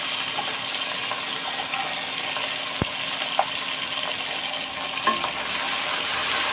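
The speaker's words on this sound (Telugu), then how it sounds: "అన్నీ వేసి బాగా కలుపుకోవాలి ఇవన్నీ వేగనివ్వాలి" Potato and cauliflower pieces for veg biryani sizzle and fry in a pan, a steady close hiss broken by a few sharp scrape and clink accents from stirring.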